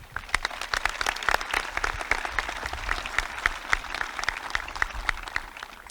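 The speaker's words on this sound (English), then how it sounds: "Please join me in a round of applause for Megan Strite." A high school graduation audience claps for a student speaker, a moderate, continuous applause with individual claps standing out, fairly distant and even throughout.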